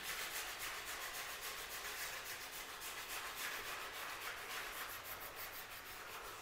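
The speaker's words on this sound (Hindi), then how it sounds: "अभी सिर्फ ये लकड़ी की सफाई कर रहे हैं।" Workers rub and sand wooden surfaces by hand before polishing in a home under renovation, a continuous close, even scraping hiss with a faint rhythmic back-and-forth pulse.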